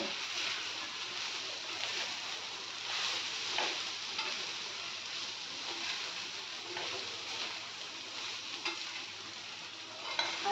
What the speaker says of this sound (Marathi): तर आता हे मी छान परतून घेते